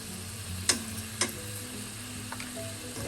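Spices and chilli powder frying in hot oil for a Jeerakashala rice chicken biryani, a steady low sizzle with two sharp clicks of a utensil against the pan early on, close and fairly quiet.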